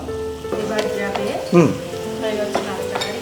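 Onions frying in a pan as ginger paste goes in, a close, steady sizzle with a sharper burst of crackling and a scrape of stirring partway through, while a voice talks faintly nearby.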